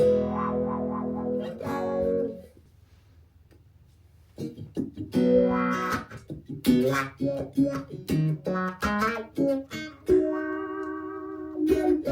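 An electric guitar plays through a STRICH SW-2 wah pedal's sweeping wah effect, chords and single notes with a vocal, filtered tone, loud and close, with a brief quiet gap early on.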